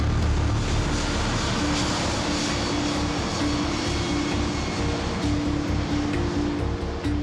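Boeing 777 airliner powering up for takeoff in near-calm conditions, a loud, continuous, steady engine roar with a deep rumble and a faint tonal whine running throughout, no voices.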